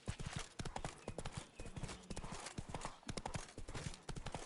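Roach, the horse in the video game The Witcher 3: Wild Hunt, gallops with quick rhythmic hoofbeats that drum steadily and close throughout.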